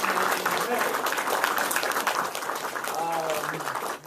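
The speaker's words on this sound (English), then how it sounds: "Will you join me in giving all 8 debaters a nice round of applause for their recent debate." An audience at a UCLA debate on Syrian refugees gives a steady round of applause for eight debaters, sustained clapping that fades slightly near the end, with a voice heard briefly over it.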